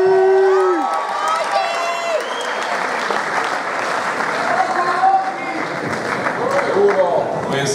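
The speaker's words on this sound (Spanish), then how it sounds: "Un fuerte aplauso y bendiciones." A crowd at a Cuban hip hop concert in Havana applauds and cheers loudly throughout, with whoops rising over the clapping and a voice calling out near the start.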